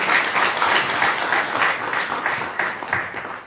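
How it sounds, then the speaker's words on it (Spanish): Warm audience applause at a poetry book presentation at the Bogotá book fair, steady clapping from a modest crowd that fades out at the end. "Un fuerte aplauso para ella."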